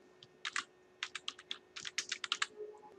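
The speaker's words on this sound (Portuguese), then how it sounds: "Vamos digitar aqui Ubuntu." Typing on a computer keyboard to enter a name while setting up Ubuntu Linux in VirtualBox, a quick burst of crisp close key clicks in uneven rhythm, no speech.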